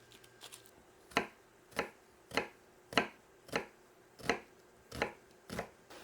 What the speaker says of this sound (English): I'm going to take an onion and just chop it